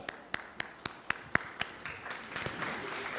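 A church congregation claps during a sermon. It opens with a handful of sharp, evenly spaced single claps, then swells into fainter, denser applause from many hands.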